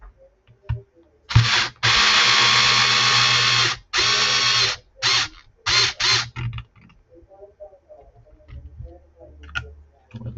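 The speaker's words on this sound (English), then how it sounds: "screws in with the driver, make it a little bit easier and faster" A power driver runs screws in, several loud sustained whirring bursts of one to two seconds each, followed by quieter clicks and handling noises.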